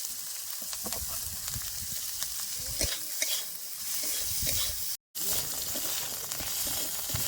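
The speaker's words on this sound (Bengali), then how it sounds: "পেঁয়াজটা সুন্দর ভাজা ভাজা হয়ে গেছে মানে ঘি করালার ভিতর থেকে বার করে রাখা শাঁসগুলো এবার দিয়ে দেবো" Onions and spiny gourd pulp frying in ghee in a pan with salt and turmeric, a steady close sizzle broken by repeated scraping stirs of a spatula, with a brief cut near the end.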